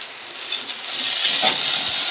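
Ivy gourd frying in a little oil and being stirred, a steady close sizzle and hiss with scraping stirs rising toward the end, no talk.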